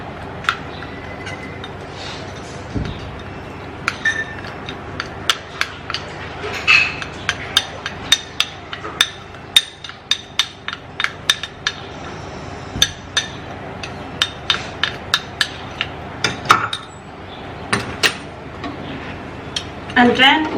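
Baking soda and Vaseline being mixed in a container, with a string of sharp clinks and taps as a utensil knocks against the container's sides, steady and close over a low background hum.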